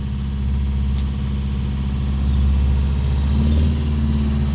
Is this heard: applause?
no